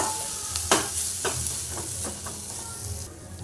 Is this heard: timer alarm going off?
no